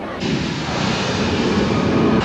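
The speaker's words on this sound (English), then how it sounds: "the audience gets to see 30 major fires and 10 explosions in a couple of minutes" A live fire stunt show based on the film Backdraft, with a loud, sustained roaring blast that surges in and holds steady as a dense, rumbling wall of sound, close and alone.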